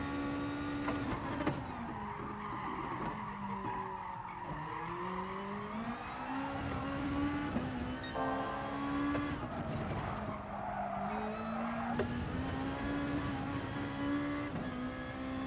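Race car engine revs rising and falling with tire skids and squeals in Gran Turismo Sport on PC, loud and continuous throughout with shifting engine pitch and no talking.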